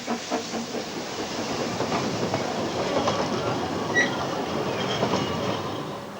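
Festiniog Railway train on narrow-gauge track in Wales, a steady rolling rumble with rhythmic clickety-clack of wheels and a brief faint squeal, close and continuous with no talk.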